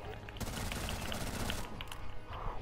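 Pistol gunfire in the video game Rainbow Six: a dense run of sharp, rapid shots filling most of the clip, with a brief lull and faint voice activity.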